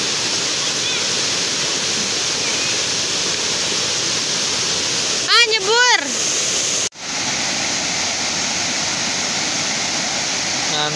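Curug Cigentis waterfall in Karawang roars as a steady, loud wash of falling water throughout, with a brief warbling sound and a clunk partway through.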